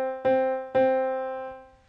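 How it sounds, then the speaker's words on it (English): Middle C is struck twice on an electronic keyboard, a clear sustained tone with a rich harmonic series, the second note ringing and slowly fading; played close and alone with no talk. "Your middle C is always this tone."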